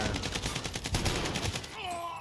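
Automatic gunfire in the Call of Duty video game, rapid rattling bursts of shots in quick succession that fade into other game sounds at the end.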